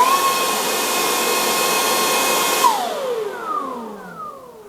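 A Makita DUB362Z cordless leaf blower runs flat out at its maximum setting, a loud steady airy whoosh with a high whine that cuts off abruptly midway, leaving a fading falling tone.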